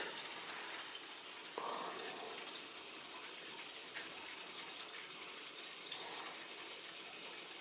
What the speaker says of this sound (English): The flow check was bouncing up and down because it was full of air.